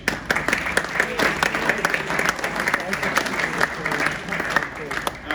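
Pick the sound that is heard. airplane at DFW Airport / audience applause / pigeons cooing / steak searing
audience applause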